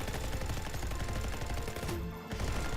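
Rapid automatic gunfire from the military shooter game Delta Squad on Xbox One, a dense, continuous rattle of shots at steady loudness with a brief dip near the end.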